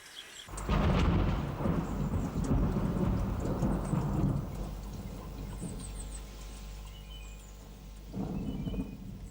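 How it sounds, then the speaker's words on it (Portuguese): A thunderstorm in spring countryside, with long, loud rolling thunder and steady rain, the rumble swelling and fading before a second close clap near the end. "sobretudo as grandes trovoadas tão típicas do mês de maio e dos princípios de junho"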